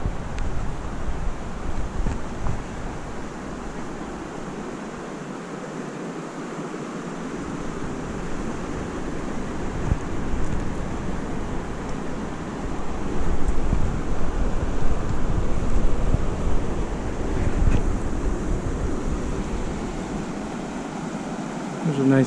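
A river flows in a steady broadband rush that lasts throughout, with wind buffeting the microphone and surging louder near the middle, heard outdoors with no talk.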